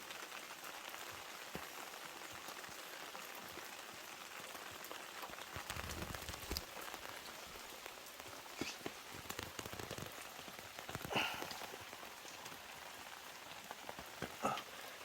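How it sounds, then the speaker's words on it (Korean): Steady rain falls outdoors, a dense even patter on surfaces with a few louder drips and drops standing out near the end, no talking. "특히나 오늘은 또 비가 오는데"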